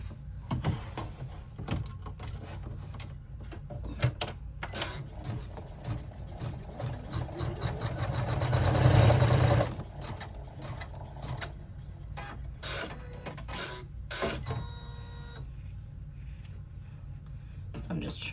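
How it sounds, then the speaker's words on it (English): Embroidery machine running an in-the-hoop placement line on a cell phone wallet, a busy mechanical chatter of rapid needle strokes with clicks, swelling briefly in the middle, while someone talks over it. "we're gonna run the placement line for, I wanted to get that tape out of the way, for our tab"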